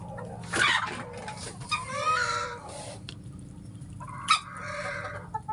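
A chicken recovering from illness clucks and makes soft calls close by while it pecks at its feed, with short bursts spread over a few seconds and no talking.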